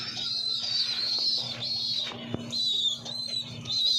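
Soft, repeated pigeon coos in a loft murmur low beneath a bright, steady chorus of small birds chirping nearby, with a faint click midway.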